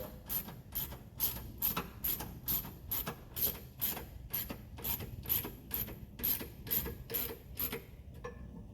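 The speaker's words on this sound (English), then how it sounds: "I'll use my hand ratchet instead of the power ratchet." A hand ratchet tightens the fuel filter on a Ferrari 348 Spider, with quiet bursts of rapid metallic clicking repeated in short, even strokes, close up and alone.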